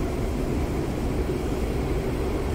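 An aircraft engine in the DCS flight simulator game gives a steady, continuous roar at constant loudness, with no voices.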